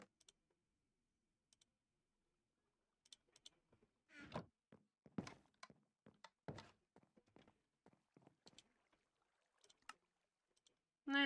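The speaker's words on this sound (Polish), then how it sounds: "Łódeczka, łódeczka." Minecraft rowing boat, soft wooden paddle thunks and clicks coming in scattered bursts, faint and close, separated by stretches of near silence, with louder knocks at the very end.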